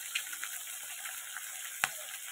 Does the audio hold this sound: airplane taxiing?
no